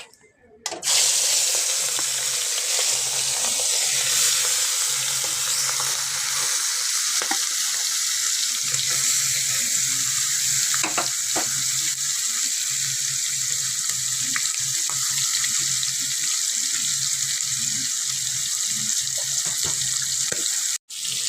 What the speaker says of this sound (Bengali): তেল গরম হয়ে গেছে, এখন আমি চিংড়ি মাছগুলোকে ভেজে নেব।